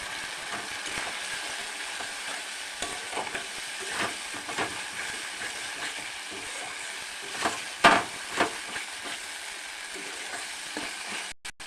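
Spices with Kashmiri chili powder sautéed in oil for a milk paneer dish, a continuous close sizzle with occasional stirring scrapes and a louder clatter of the spoon near the end.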